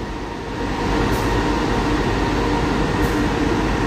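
The Mutiara Timur passenger train runs steadily between Sidoarjo and Banyuwangi, a loud, continuous rumble and rail roar from inside a business-class carriage with no talk.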